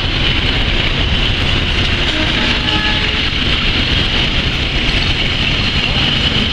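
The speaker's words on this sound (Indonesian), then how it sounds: "Bayu berada di jalur 4 kereta api Kamandaka tujuan Angin Semarang" A passenger train rumbles steadily and loudly at a railway station platform, a continuous mechanical roar that holds without pause throughout.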